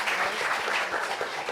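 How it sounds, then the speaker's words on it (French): Audience applause, a dense steady burst of many hands clapping at a close distance, filling the short moment without speech. "Applaudissements pour elle, s'il vous plaît."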